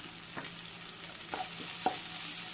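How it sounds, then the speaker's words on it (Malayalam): Papaya curry stirred on low flame after adding Kashmiri chilli powder, a soft steady sizzle with a few light scrapes and taps of the spoon against the pan. "നല്ലപോലെ ഒന്ന് ഇളക്കി കൊടുക്കണം."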